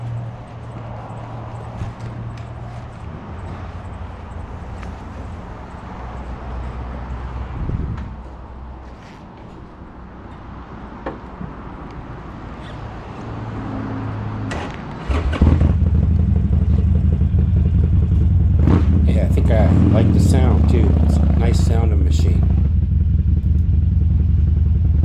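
A 2007 Harley-Davidson Sportster XL 1200 motorcycle fires up after quiet rustling and handling, then settles into a loud, close, rumbling idle and revving engine that carries through the last ten seconds.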